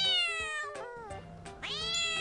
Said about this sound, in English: A cat. An orange cat.